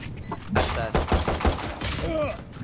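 Rapid bursts of gunfire from a Valorant match, loud and close in quick clustered volleys, with players talking over the shots.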